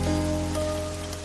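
Heavy rain pours down in a dense, even hiss on surfaces, loud and continuous, with no voices.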